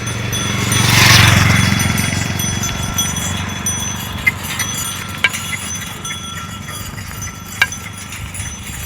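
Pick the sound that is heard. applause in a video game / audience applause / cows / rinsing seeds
cows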